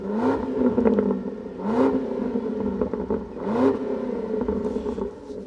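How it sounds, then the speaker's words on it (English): A new Range Rover Sport SV's turbocharged V8 with an upgraded Quicksilver exhaust revs up three times, each rising snarl settling back into a deep burbling idle. "This brand new Range Rover Sport SV has had an upgraded exhaust from Quicksilver, and this is what it sounds like."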